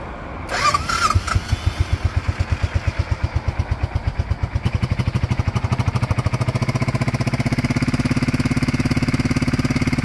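A narrowboat's engine starts up and settles into a loud, steady, rhythmic idle, close by, with no talking over it.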